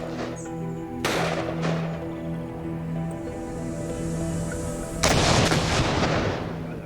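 Staged firing-squad gunfire effect, several sharp loud shots at the start, after about a second and again near five seconds, each followed by a rumbling tail over a steady musical bed.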